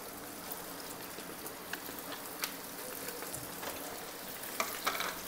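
Paneer samosa twisters dropped into hot oil for deep-frying, a dense continuous sizzle and crackle with a few sharper pops, close and moderately quiet, with no voices.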